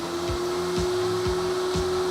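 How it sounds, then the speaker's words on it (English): A screen printing press vacuum switches on and runs as a steady, fairly loud mechanical hum, with a low thump pulsing roughly every half second. "I'm going to turn the vacuum on."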